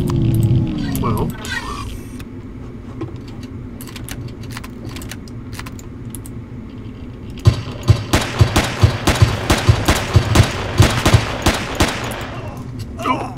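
In the video game Empyrion: Galactic Survival, enemy gunfire starts midway as a rapid string of sharp, loud shots over a steady droning hum, after an earlier stretch of scattered clicks and clatter.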